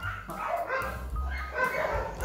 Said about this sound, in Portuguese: Os cachorros abafam.